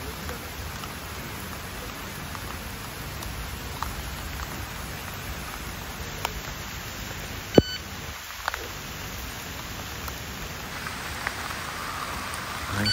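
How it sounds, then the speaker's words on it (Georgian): Heavy rain in Thailand falls steadily and evenly on surfaces, with a few sharp drop taps and a faint high electronic tone running through most of it. "აუ რა საკაიფო წვიმს."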